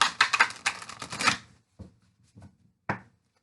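A quick flurry of tarot cards being shuffled close by, riffling rapidly, then a few soft, sparse taps and one sharp snap.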